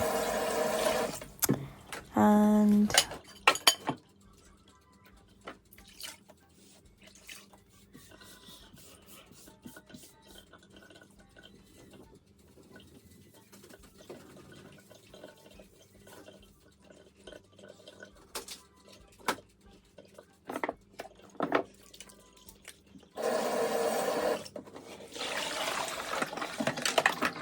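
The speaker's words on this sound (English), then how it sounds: "I'm just washing the dishes from baking the cake." Dishes and baking utensils left from making a cake are washed in a kitchen sink, with clinks of cutlery and bowls and scrubbing, loud at the start and end and quieter rubbing and rinsing in between.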